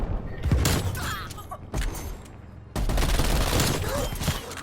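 Rapid shotgun-style gunfire and impacts in the video game Call of Duty Cold War, dense bursts of shots filling the clip with a brief lull midway, loud and close.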